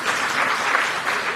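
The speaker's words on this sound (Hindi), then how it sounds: "इनके लिए भी जोरदार ताली बजाइए आप।" A crowd at a BJP political gathering claps steadily, a brief burst of many hands applauding together at moderate loudness.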